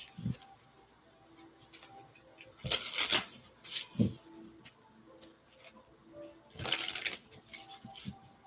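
Love Angels oracle cards being shuffled by hand in a quiet room, with several loud riffling bursts separated by softer rustling and handling.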